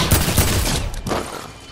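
Gunshots in Fortnite, a quick flurry of loud popping shots with punchy low thumps, fading into softer game noise.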